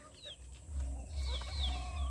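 Chickens in a backyard coop cluck and call softly over a low rumble of background noise, with a few higher chirps standing out near the end.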